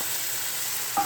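Ground mustard and poppy seed masala frying in oil, a steady close sizzle with a faint stir near the end, no voices.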